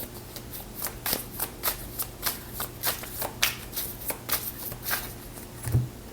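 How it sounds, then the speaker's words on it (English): A deck of oracle cards being shuffled by hand, a close, quiet series of crisp riffling bursts at a steady rhythm over several seconds. "I'm going to shuffle them up a little bit, and then I'll pull from the top"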